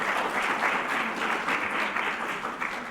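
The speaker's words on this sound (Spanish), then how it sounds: "Un aplauso para Natalia" An audience at a panel session on integral ecology applauds for Natalia, a steady, full round of clapping that holds evenly throughout without voices on top.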